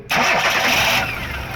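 Hyundai car engine cranking and catching into a steady, close, loud idle, starting abruptly after a brief quiet moment and holding a smooth hum.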